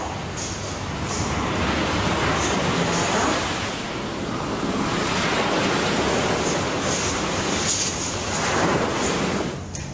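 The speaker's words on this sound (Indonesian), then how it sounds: "Sambil kita mendengarkan suara deburan ombak." Ocean waves roll and crash continuously, a broad steady wash of surf that swells and recedes with no voices.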